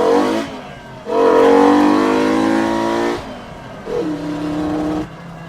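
A Mk2 VW GTI with a swapped five-cylinder engine revving hard in loud, close bursts, one long climbing pull then a shorter one after a brief lift, the engine sputtering as it breaks up.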